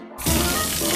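Water runs from a tap in a steady, loud hiss that starts abruptly after a short silence and continues without a break.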